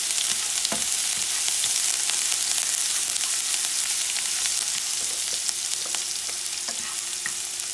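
Ingredients for a shrimp pasta paella frying in a hot pan and being moved around, a dense continuous sizzle with scattered scraping clicks of stirring close by.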